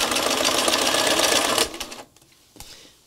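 A sewing machine stitches a tiny piece of fabric in spirals, giving a loud, fast, steady mechanical whir for about a second and a half that stops abruptly, followed by a few faint clicks.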